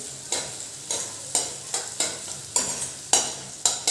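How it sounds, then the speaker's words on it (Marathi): Chopped onion sizzles in hot oil with a pinch of asafoetida, a spoon scraping the pan in quick repeated strokes over a steady frying hiss, close and fairly loud, no talking. "हिंग चिमूटभर टाकणार आहोत तर हे व्यवस्थित हालून कांदा चांगला आपला शेकून घेऊया तेलामध्ये"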